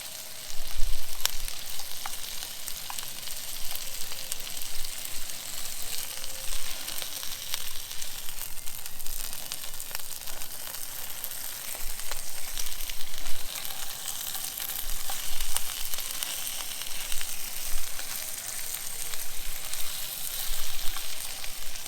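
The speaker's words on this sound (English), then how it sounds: "You just wait for these onions to reduce a bit, crisp up." Onions for burgers fry in a pan at a rainy forest motorcycle campsite, a loud, continuous crackling sizzle held close up for a long stretch with small swells and no talking.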